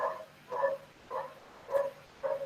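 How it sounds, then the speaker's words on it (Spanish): Dogs barking indoors in repeated short woofs, five evenly spaced barks at a moderate distance with no talking over them. "mil disculpas con el sonido de los perros"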